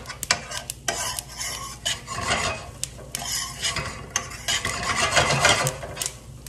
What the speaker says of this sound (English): You can hear the nuts starting to pop and the seeds getting nice and toasty.